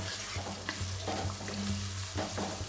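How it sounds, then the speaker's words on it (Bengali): Spices and green peas frying in hot oil in a pan for Bengali potato ghugni, a steady close sizzle with a few scraping stirs and a low continuous hum beneath. "তাহলে আমি একটু কষে নিই, তেলটা উঠে গেলে বাকি মশলাগুলো আমি দিতে থাকবো।"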